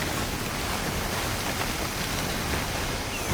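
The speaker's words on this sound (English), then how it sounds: "Find cover from the rain on the double." Heavy rain pouring down in SYNDUALITY Echo of Ada, a steady, dense broadband hiss of falling water that stays constant throughout with no voices.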